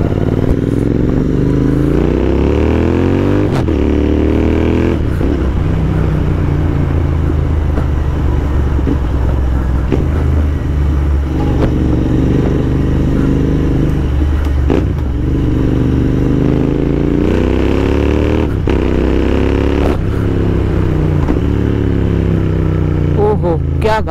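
An Interceptor 650 motorcycle engine revs loud and close, its pitch rising and falling in repeated sweeps over a steady idle rumble for the whole stretch.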